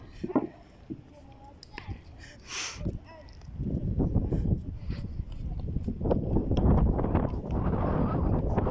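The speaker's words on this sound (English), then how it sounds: "Oh, it's too windy." Gusty wind buffets the microphone, a heavy low rumble building midway and continuing, with a person talking intermittently.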